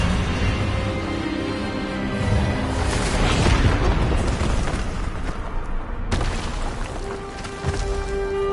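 Expelliarmus spell blast in the Hogwarts Legacy video game, a booming magical burst with rumbling low end and a sharp crack partway through.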